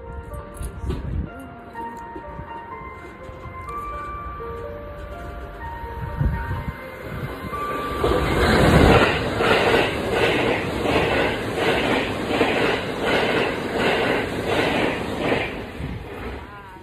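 A train in Japan approaches and rolls past, its rumble swelling to a loud, steady clatter of wheels with rhythmic clicks midway through, after faint tones and soft background sounds.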